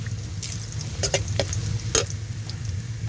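Radish greens (mula shak) frying in a pan while being stirred, a low steady sizzle with a few sharp scraping and clinking stir sounds scattered through.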